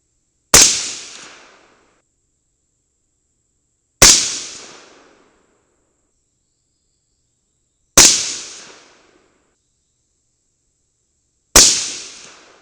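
Four single shots from a 22 Nosler rifle fired while testing grouping, each a sharp loud crack with a short decaying tail, spaced roughly three to four seconds apart with silence between.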